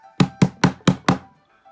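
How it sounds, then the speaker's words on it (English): A door knocker is banged five times in a steady, evenly spaced rhythm, each a loud, close, hollow knock, followed by quiet. "Elizabeth grabbed the knocker and banged on the door again."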